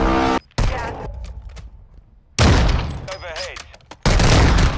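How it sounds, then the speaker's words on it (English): A Signal 50 sniper rifle fires in Warzone 2: a few sharp, loud reports in quick succession, separated by short gaps with other battle noise, and a player's voice talking between shots. "Signal 50 sniper has an incredibly fast fire rate"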